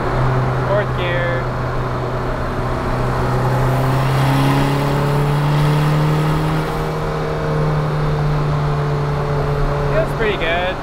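A car with a 1.6L turbodiesel engine pulls steadily in fourth gear, a continuous loud engine drone rising slowly in pitch over about eleven seconds, with faint talk in the cabin.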